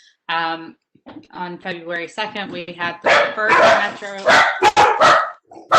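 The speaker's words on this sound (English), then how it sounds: "excuse my dog" A dog barks several times in sharp bursts close to the microphone, cutting over a person speaking during an online community meeting.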